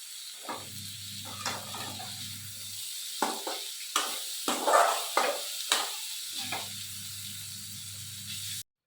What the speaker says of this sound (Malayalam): ഞാൻ കുറച്ച് തക്കാളിയും കൂടെ ചേർത്ത് കൊടുത്ത് നന്നായിട്ട് വഴറ്റിയെടുക്കുവാണ്